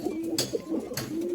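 Pigeons at a seller's loft coo in a low, steady hum, with a soft fluttery burst or two over a busy background.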